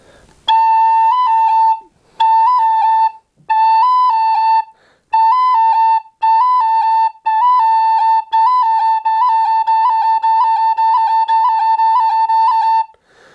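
A tin whistle plays an A roll, a repeated ornamented phrase of short rolled notes, starting slow and then running continuously and quickly, bright and close.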